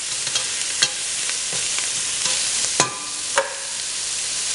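Onions and smoked turkey fry in a few tablespoons of oil while a utensil scrapes and stirs them, producing a steady close sizzle broken by several sharp clicks of the spoon against the pan.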